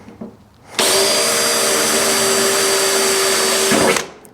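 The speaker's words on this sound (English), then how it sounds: "drill it right below that little mark." A power drill with a 1/8 inch bit whines loudly at a steady high pitch for about three seconds, drilling a sample hole, starting abruptly and spinning down at the end, with no talking.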